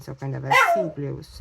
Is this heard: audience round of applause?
no